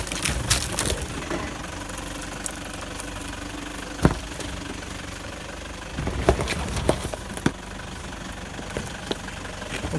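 A 4WD engine idles and rumbles steadily on a forest track in Wombat State Forest, with scattered knocks and clunks over the drone and no voices.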